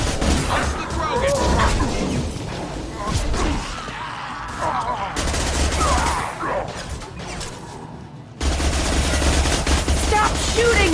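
Sustained gunfire in a Mass Effect 2 firefight, rapid bursts and heavy shots stacking into loud fusillades with a short lull, while voices shout over the combat.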